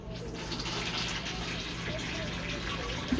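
A steady rush of water flushing as an RV toilet is foot-flushed in a Jayco Jay Flight travel trailer, close by and continuous, ending with a faint clunk.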